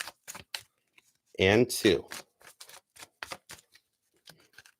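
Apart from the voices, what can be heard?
shuffling a tarot card deck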